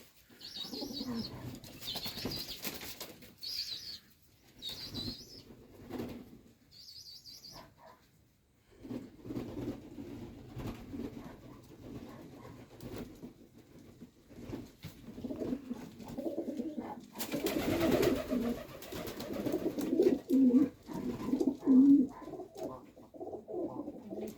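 Domestic pigeons in a loft coo steadily at close range, with a loud burst of flapping wings midway and soft rustling between calls.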